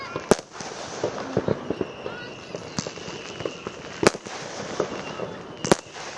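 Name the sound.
bonfire night fireworks exploding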